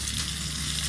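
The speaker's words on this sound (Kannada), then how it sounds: "ಇವಾಗ ಒಗ್ಗರಣೆ ಚಟಪಟ ಅನ್ನೋ ಟೈಮಲ್ಲಿ ಕರಿಬೇವಿನ ಸ್ವಲ್ಪ ಹಾಕ್ಕೋಬೇಕು ಕೆಳಗಡೆ ಇಟ್ಕೊಂಡು" Curry leaves dropped into hot oil for a South Indian tempering in a village home kitchen, giving a steady, dense, close sizzle and crackle throughout with no voices.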